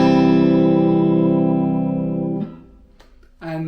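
Electric guitar with its humbuckers split to single coils, played on the middle pickup position: a sustained ringing chord decays over about two and a half seconds, followed by brief muted picking and a fresh strummed chord near the end.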